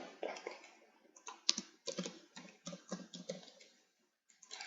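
Someone types a site name on a computer keyboard while setting up WordPress on hosting. The close, crisp key clicks come in quick uneven bursts with short pauses, and no one talks.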